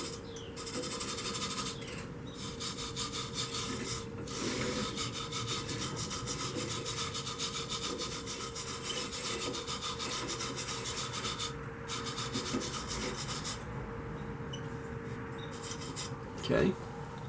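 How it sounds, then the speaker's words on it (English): A brass brush scrubs the inside of a turned mahogany candy dish on the lathe, clearing fuzz left by a Dremel; steady, loud raspy rubbing runs almost without a break, with a sharp knock near the end. "I've got this brass brush, and I'll just start hitting in here and clean out the fuzzies and stuff left from the Dremel"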